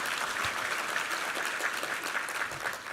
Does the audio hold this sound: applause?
yes